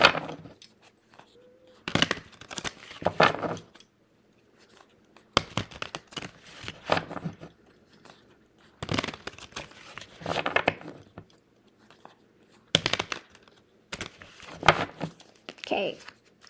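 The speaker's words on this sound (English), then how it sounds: "Okay, give them a good ruffle shuffle now." A deck of tarot cards ruffle-shuffled in several bursts, each a quick riffling flutter followed by a short pause, fairly close and clear, repeated about five times with brief quiet gaps between.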